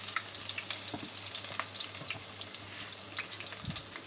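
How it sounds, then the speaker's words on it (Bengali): Chopped onions sizzle and crackle softly in hot oil in a pan, a steady, faint frying hiss with occasional pops and stirring sounds, no voices. "এই যে আমি পেঁয়াজটা একটু ভেজে নিচ্ছি।"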